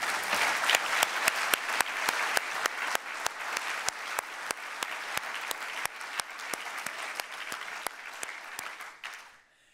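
Audience applause at an ECB opening session on monetary policy, honouring Benoît: dense, steady clapping from a large crowd with sharp individual claps standing out, sustained for most of the stretch before fading out at the end.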